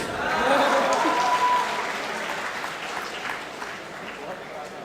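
Audience clapping at a Hindi poetry gathering swells quickly, then thins out and fades slowly, while a poet speaks over it.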